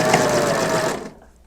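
A Babylock serger sews fabric with a wave stitch in a rapid, even whirring hum, close up, then stops abruptly and leaves quiet room tone.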